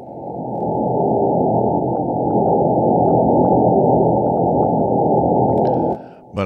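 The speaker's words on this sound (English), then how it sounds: "So it's a PIP signal." A mysterious PIP CW signal on 6231 kHz shortwave comes through as a steady, continuous band-limited hiss-like tone with faint pips, fairly loud and unbroken for about six seconds before a short dip.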